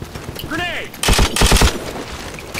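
Short bursts of M60 machine gun tap fire in Call of Duty 4, several loud close shots clustered in the middle, with game voices and effects around them.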